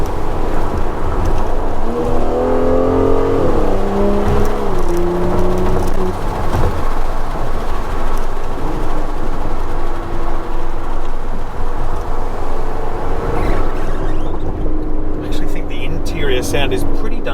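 An Aston Martin DBS Superleggera engine roars and revs up and down, rising in pitch through gears, heard close through an open window with wind noise and a voice briefly talking over it.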